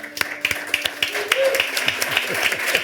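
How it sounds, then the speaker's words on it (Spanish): A small audience on a Spanish talk show applauds the guest's mother, with distinct, fairly close individual hand claps in an uneven rhythm and a faint tone running under them. "Un aplauso para tu madre también"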